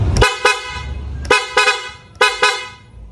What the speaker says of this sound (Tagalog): Kinabitan natin siya ng busina.